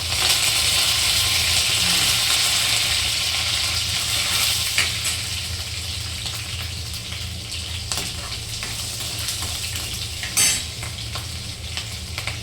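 Green chilies and garlic sizzle steadily in hot oil for cabbage being cooked for a tiffin, with occasional stirring scrapes and clinks of a utensil against the pan; no one speaks.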